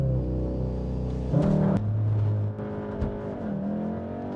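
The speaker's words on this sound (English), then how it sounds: "Let's see what a 0 to 60 does." A VW Golf R Mk7 tuned to stage 1 revs hard from a stop, its engine note climbing through a quick upshift and pulling again, loud and close from inside the car with no talking.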